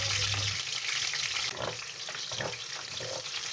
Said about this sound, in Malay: Tumis bawang besar dengan daun kari ya.